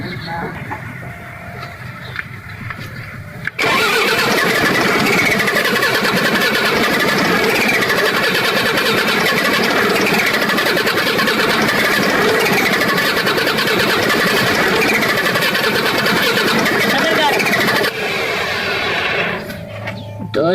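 Isuzu 6BG1 six-cylinder diesel truck engine cranking without starting, a loud, steady, grinding churn of the starter lasting about fifteen seconds before cutting off, with people talking before and after.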